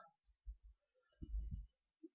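Mouse clicks in cheese-making cost analysis software: a few soft, sparse clicks close to the mic in a quiet room, with a faint voice murmuring briefly in the middle.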